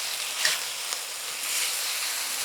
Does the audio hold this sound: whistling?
no